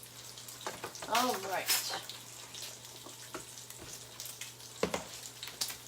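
Bacon frying in a pan gives a soft, intermittent crackle and spatter, fairly quiet, with brief clicks and stirring sounds while someone speaks briefly over it in a home kitchen.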